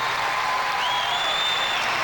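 A crowd applauds a men's gymnastics routine at the 1998 Commonwealth Games, with steady, dense clapping filling the arena throughout.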